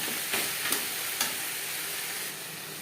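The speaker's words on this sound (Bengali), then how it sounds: "দিয়ে দেবো চিকেন। চিকেন বেশ ভালো করে মিক্স করে নেব।" Chicken pieces stirred and frying in a pan for chicken ghugni, with a steady sizzle and a few sharp scraping stir strokes, close and alone with no talk.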